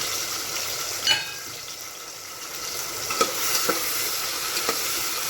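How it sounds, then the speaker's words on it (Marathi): Ginger-garlic paste fries with tomatoes in a pan for a cowpea vegetable bhaji, a bright continuous sizzle with occasional scraping knocks as the mixture is stirred. "हे चांगल्या पद्धतीने आपण असे हलवून घ्यायचं आहे जेणेकरून मसाला खाली चिटकत नाही"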